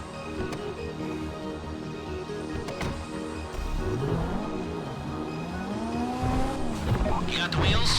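A car drives in GTA 5 Online with its engine revving and tires squealing in rising and falling sweeps, loud and close, while voices talk over it.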